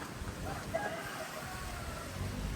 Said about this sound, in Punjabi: ਆ ਕੁੱਕੜ ਵੀ ਬੋਲਦੇ ਇੱਧਰ।